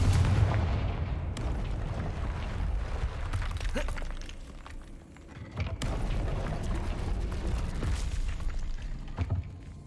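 A Confringo fire spell cast in the Hogwarts Legacy video game lands with booming, crackling explosions, a heavy blast at the start and further sharp impacts amid continuous rumbling combat noise.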